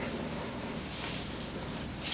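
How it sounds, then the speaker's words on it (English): A rag rubs shellac onto a small wooden fly rod reel seat, a soft continuous brushing scrub, quiet and close, ending in a brief louder scuff. "I'm just using a rag and rubbing this on."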